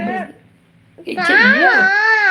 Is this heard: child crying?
yes